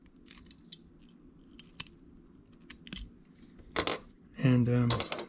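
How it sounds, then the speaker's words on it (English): Fishing line tag end snipped off, a few small sharp clicks and snips followed by a louder clattering rustle near the end, with quiet handling noise between. "Cut off the tag end."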